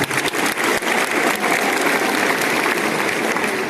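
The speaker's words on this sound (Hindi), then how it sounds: "आप अपने लिए एक बार जोरदार ताली बजा दीजिए।" Loud, dense applause from a room of students at a Gorakhpur inter college quiz event, steady clapping filling the whole stretch without letup.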